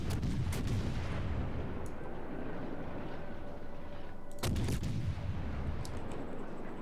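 Rapid naval gunfire from the USS Monaghan destroyer in World of Warships, a steady rumbling barrage of booms with a sharp loud salvo burst near the middle, no talking.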